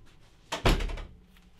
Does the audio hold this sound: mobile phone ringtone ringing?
no